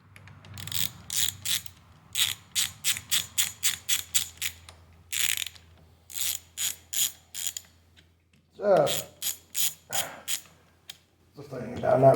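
A ratchet tightening handlebar bolts on a 2018-or-later Honda Goldwing, clicking in rapid bursts of strokes separated by short pauses, close and crisp, with brief voice-like sounds near the end.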